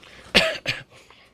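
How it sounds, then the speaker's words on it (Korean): A person with the flu coughs twice in quick succession, sharp and close, then falls quiet. "중간중간에 기침 같은 거 이런 걸 이게 좀 심하게 나올 수도 있습니다"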